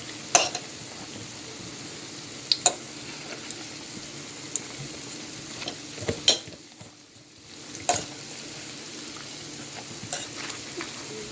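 Saltfish frying in a pan on a low stove, a steady soft sizzle with scattered sharp clanks and scrapes as the pieces are turned, including a brief pause near the middle.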